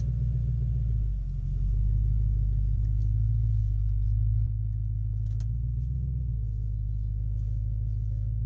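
A Mercury Grand Marquis on a road test drive gives a loud, steady low engine rumble with a slight swell in revs partway through, close and continuous.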